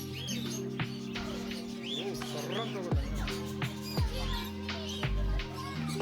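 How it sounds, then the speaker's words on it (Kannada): Lovebirds in a pet sanctuary aviary near Bangalore chirp and tweet in quick rising and falling calls, several birds overlapping close by against a low steady hum. "ನೋಡಿ, ವೆರೈಟೀಸ್ ಆಫ್ ಲವ್ ಬರ್ಡ್ಸ್ ಇಲ್ಲಿ ಒಂದಷ್ಟು ಇದ್ದಾವೆ."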